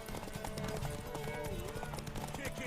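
Galloping hooves drum in quick, continuous rhythm during a horse race in Witcher 3, layered with music and raised voices egging riders on.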